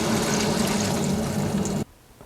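Water rushes steadily from a newly opened cold water line feeding a reverse osmosis filter under a sink, a loud continuous hiss and gurgle that cuts off abruptly near the end, leaving quiet.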